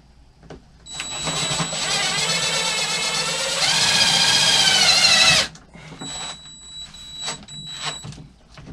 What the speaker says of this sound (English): drive a screw in one side of it